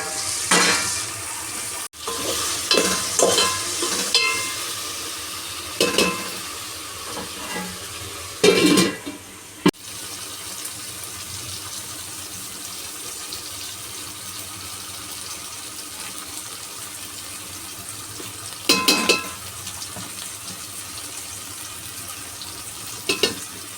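Okra frying with softened tomatoes in a pan, a steady sizzle that goes on throughout, broken by scattered scraping stirs of the spoon and a few louder clatters near the start.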